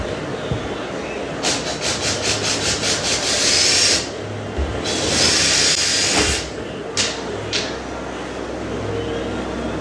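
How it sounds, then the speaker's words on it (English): A power drill drives screws into drywall during a hole repair, with several bursts of whirring, some long and some brief, close by and fairly loud against a steady rustling background. "Just a few screws right in it."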